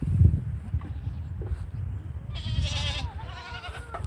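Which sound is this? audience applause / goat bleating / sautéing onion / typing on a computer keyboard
goat bleating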